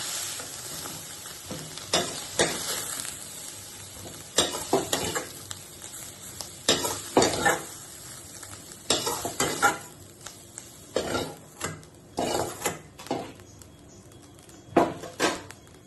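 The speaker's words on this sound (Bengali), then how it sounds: "এরকম করে করে সোয়াবিনগুলোকে একটু ভেজে নিতে হবে, একটু ধৈর্য ধরে ভাজতে হবে।" Soybean chunks fry in hot oil in a wok with a steady sizzle, broken by frequent scraping and clinking stirs of a utensil against the pan, close and moderately loud, with no voices.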